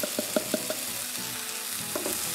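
Spring onion pieces are stirred into a drying risoles filling in a pan: a quiet frying hiss broken by quick scraping strokes of the spatula in short bursts, with no speech.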